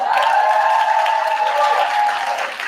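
An audience at a debate in Harlem cheers and applauds loudly, with sustained clapping and crowd noise throughout.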